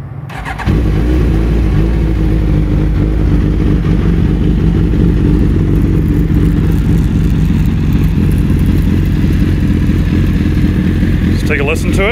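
A 2016 Suzuki GSX-S1000F motorcycle engine fires up and settles into a loud, rumbling idle close by, with a few throttle blips toward the end.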